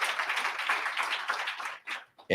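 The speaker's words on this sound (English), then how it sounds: "Let's give them a round of applause." Audience at a health equity summit clapping for partners, a moderate round of applause that thins out and breaks into scattered claps before a sharp burst at the end.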